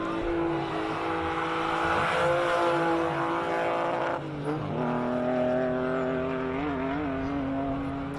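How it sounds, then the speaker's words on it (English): A classic 745 race car accelerates hard at the Simola hill climb, its engine note sustained and loud with wheelspin through second gear, a brief dip at a gear change before the revs climb again. "It's still wheel spinning by second gear."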